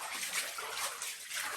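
A vehicle pushes through a water crossing on the Gibb River Road, with a close, uneven wash of splashing and sloshing water that swells and eases in waves.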